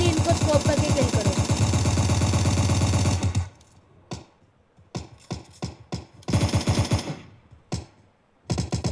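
Rapid bursts of gunfire in the zombie mode of PUBG Mobile Lite, loud and continuous at first, then scattered short volleys separated by brief quiet gaps.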